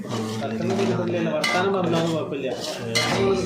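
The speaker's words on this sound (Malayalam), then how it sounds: "അതിനുശേഷം നല്ലപോലെ ഒന്ന് ഇളക്കി കൊടുക്കുക." Metal spoon clinking and scraping around a pan while pickle spices are stirred, repeated close clatter in an irregular rhythm.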